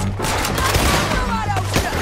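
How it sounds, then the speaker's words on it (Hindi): Rapid gunfire from Red Dead Redemption 2 comes in a dense, loud volley of overlapping cracks and booms that keeps going throughout. "फिर से एक शॉट नहीं लग रहा है सैडी"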